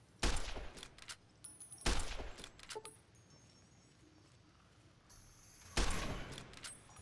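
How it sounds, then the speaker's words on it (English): A hunting rifle fires in Fallout New Vegas, three loud, close gunshots spaced a few seconds apart, each a sharp blast with a short ringing tail, with quieter mechanical clicks between them. "Let's pull out our hunting rifle and"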